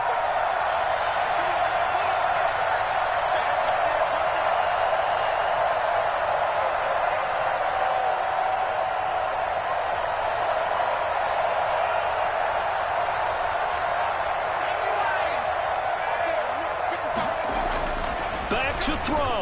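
A football stadium crowd roars and cheers continuously, loud and dense throughout, with a sharper burst of noise near the end.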